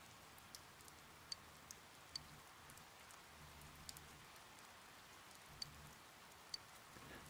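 Rain in the video game Persona 4 Golden: a quiet continuous patter of falling rain with scattered sharper drop ticks and no talk.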